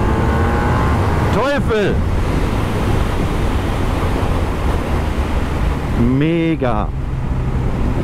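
A BMW R1250R motorcycle accelerates hard in Dynamic Pro mode, engine pitch sweeping up and dropping sharply at two gear changes over constant wind roar, while a rider exclaims loudly in German.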